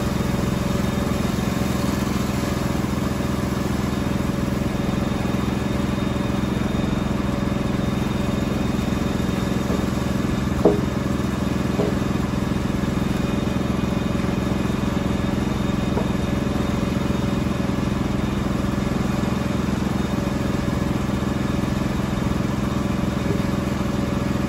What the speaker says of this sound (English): I'm just going to do one video of me sawing one log from start to finish.